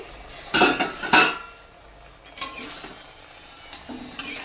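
A metal lid comes off a pot of white potato curry with two sharp clanks close together, then softer scrapes and light clinks as the cookware settles.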